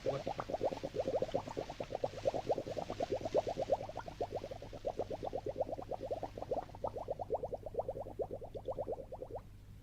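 A pot seasoned with salt and pepper simmering over a fire, giving a steady rapid bubbling and plopping that runs for several seconds at moderate level before stopping abruptly.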